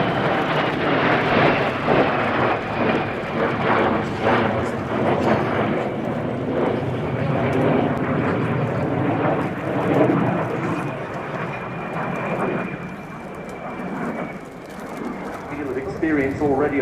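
A pair of de Havilland Vampire jets, an FB.6 and a Swiss-built two-seat T.55, flying a display at RIAT air show, a loud continuous jet roar with a slowly falling whine, while a commentator talks over it.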